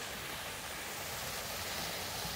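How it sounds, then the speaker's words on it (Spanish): Waterfall at Nonnewaug Falls, a constant broadband roar of falling water, loud and unbroken throughout with no other sounds. "De allí se ve la cascada."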